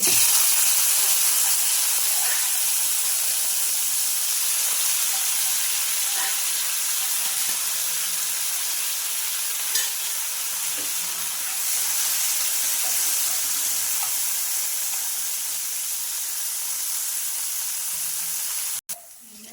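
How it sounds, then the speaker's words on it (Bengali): Radish pieces fry in hot oil, giving a steady loud sizzling hiss that holds throughout and stops abruptly at the very end. "মূলোটাও ভেজে নেবে"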